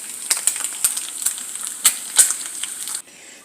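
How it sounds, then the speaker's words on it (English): Strips of turkey bacon fry in a pan with a steady bright sizzle, broken by sharp pops and crackles of spattering fat, close and fairly loud, before the frying drops to a quieter hiss at the end. "Here I am frying up some turkey bacon to use as topping"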